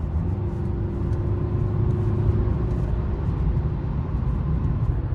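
A Mercedes W211 car driving with its automatic transmission shifting and kicking down, a low, steady engine and road rumble heard from inside, moderately loud and continuous with no talk.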